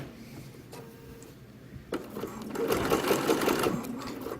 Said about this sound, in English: I'm going to stitch down just a couple stitches, sink my needle, turn, and now I'm ready to come down and finish my hem